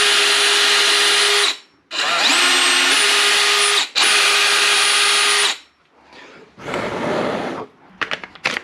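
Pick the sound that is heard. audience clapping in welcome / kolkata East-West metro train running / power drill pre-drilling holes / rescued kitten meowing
power drill pre-drilling holes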